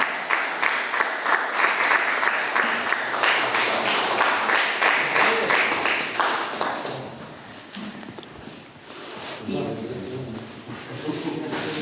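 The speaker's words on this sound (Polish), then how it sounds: "Brawa dla Teknepa." Applause at a Kashubian culture museum award ceremony, as a crowd claps loudly and densely, then the clapping fades out while a voice speaks over it.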